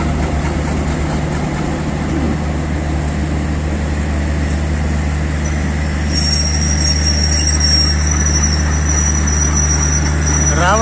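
A crowded passenger train on Pakistan Railways pulls out for Karachi, a steady heavy rumble of wheels and engine droning throughout, with a thin high squeal rising partway through.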